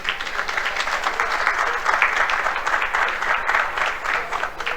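Continuous applause from a conference audience at an urban sustainability panel greeting a speaker, steady rippling clapping at moderate loudness with no talk over it.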